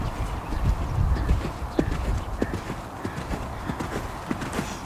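Horse cantering during dressage training in an arena, its hooves beating out a steady rhythmic clip-clop that sounds close and fairly soft on the footing, over a low background hum.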